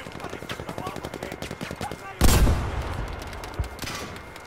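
A rapid burst of game gunfire, then a loud blast or shot crack, with a voice murmuring in the background.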